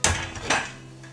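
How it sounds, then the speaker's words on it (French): Pot lids clank twice against each other and a kitchen organiser, two sharp metallic knocks close up, the second fading into a short ring, with no talking. "à chaque fois les couvercles je sais pas comment les mettre, donc je vais utiliser ça"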